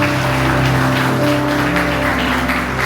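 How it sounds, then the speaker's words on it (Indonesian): Applause from the congregation at an evening KKR revival service thanking a visiting ministry team from Jakarta, a steady dense clatter of hands lasting the whole stretch, heard over a sustained low hum of music or organ tones. "Mari kita beri tepuk tangan."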